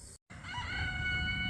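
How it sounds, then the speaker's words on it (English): A rooster crows loudly and close by, one long drawn-out call that fills the space after a brief moment of silence. "Guys, is that my rooster?"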